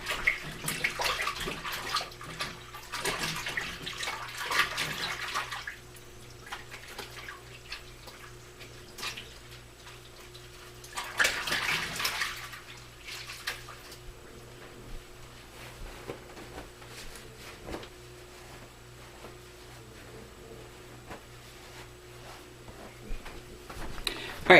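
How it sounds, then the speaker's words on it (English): Running tap water splashes over hands at a kitchen sink during tortilla making, a steady hiss with louder surges near the start and around the middle, then quieter trickling and faint handling noises. "Give me 1 second to wash my hands."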